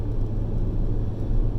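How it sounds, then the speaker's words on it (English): A Kia Soul's engine labors uphill on a drive through Arches National Park, a loud, steady low rumble filling the whole stretch without any talk. "You can really hear the engine working for it."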